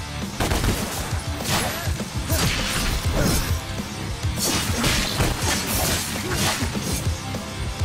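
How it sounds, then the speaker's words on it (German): Creatures blowing up in the action game DmC: Devil May Cry, a dense, loud barrage of crashing, bursting impacts that runs continuously without pause. "wenn ich diese Viecher da rein donner, dann explodieren die"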